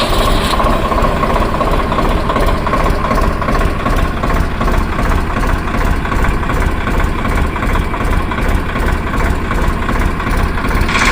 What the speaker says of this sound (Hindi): अब हम आपको इसको ट्रैक्टर को स्टार्ट करके इसकी आवाज़ सुनाते हैं।